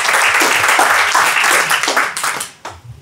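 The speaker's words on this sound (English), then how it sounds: "please do an applause" An audience at a panel on international rap journalism gives a loud, close round of applause that holds steady and then tapers off into a few last scattered claps.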